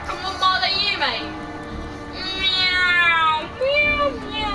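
A voice imitates a cat, meowing repeatedly in high, rising and falling cries during a DC Universe Online gaming session, loud and close with bursts of game sound around it.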